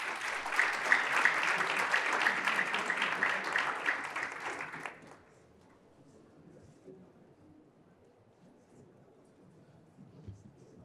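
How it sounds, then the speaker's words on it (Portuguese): Audience applause at a panel on international finance careers, a burst of clapping from a crowd lasting about five seconds before it stops abruptly, leaving quiet room noise. "Por favor, uma salva de palmas."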